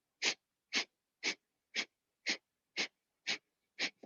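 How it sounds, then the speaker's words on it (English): Eight quick, evenly spaced nasal exhalations of breath of fire yoga breathing, each a short sharp huff with silence between, close and fairly soft. "We're going to do breath of fire."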